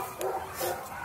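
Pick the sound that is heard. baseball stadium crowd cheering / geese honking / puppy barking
puppy barking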